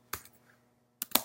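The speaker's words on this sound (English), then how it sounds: "You can type in Firefox" Typing on a computer keyboard: a brief burst of a few sharp key clicks, a short pause, then another quick cluster of taps, close and clear with no talking.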